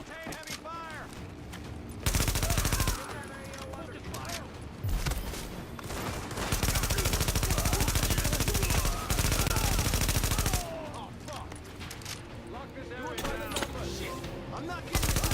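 Sustained heavy automatic gunfire in a cooperative shooter game, dense bursts of rapid shots that swell loud in long stretches, with voices and radio callouts mixed in.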